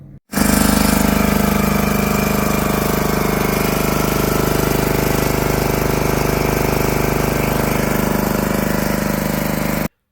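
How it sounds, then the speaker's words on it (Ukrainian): A repaired generator engine runs steadily through its break-in, a loud continuous close-up drone from start to finish with no talk. "Як бачите, генератор ми запустили, проходить він обкатку, можна сказати, пройшов."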